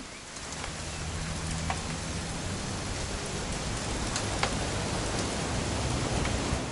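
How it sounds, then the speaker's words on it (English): Steady rain patters down in a continuous wash of noise, with a few louder drops standing out now and then. "It's gonna rain the whole weekend"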